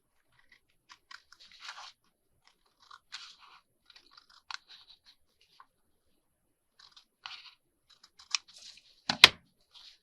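Material for an accordion project is cut in short crisp snips and crunches, scattered in small bursts with pauses, ending in one louder close cut; no talking.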